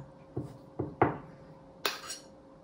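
A small spoon clinks and scrapes against a container while stirring homemade lavender deodorant cream, four crisp metallic taps at uneven intervals, close and clear with no talking.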